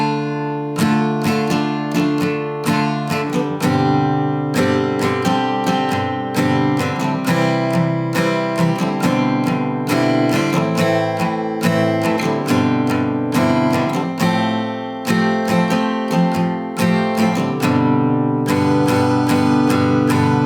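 An acoustic guitar strums the pre-chorus of a song with steady, even down-strokes and a brief pause partway through, loud and close with no voice over it.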